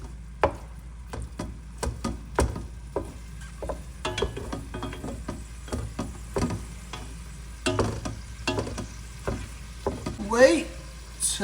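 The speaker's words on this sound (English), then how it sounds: "Wait till the meat is done cooking." Ground beef for Hamburger Helper frying in a pan, a close, steady sizzle broken by repeated sharp clacks and scrapes of a utensil stirring the meat.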